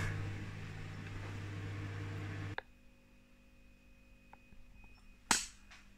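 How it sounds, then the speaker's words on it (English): A low, steady hum of a running microwave oven, heating food for 12 minutes, stops abruptly, followed by quiet room tone and a sharp click or pop near the end. "Did 12 minutes in the microwave."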